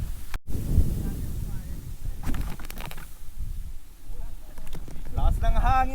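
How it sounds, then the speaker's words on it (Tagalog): Wind gusting across an open mountain trail at Susong Dalaga in Bongabon, Nueva Ecija, a steady blustery rumble buffeting the microphone for the whole stretch, with brief higher rustles and chirps breaking through near the end. "Lakas ng hangin dito"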